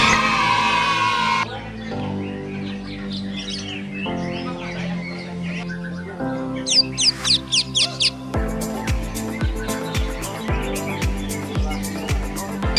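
A caged green leafbird (cucak ijo) sings loudly and close in a songbird contest setting, pouring out varied warbling phrases, rapid chirp runs and sharp repeated calls with no talking over it.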